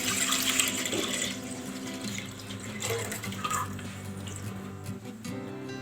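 Water runs steadily from a tap into a cooking pot over a lit flame, a continuous splashing pour with faint clinks, close by and with no talking.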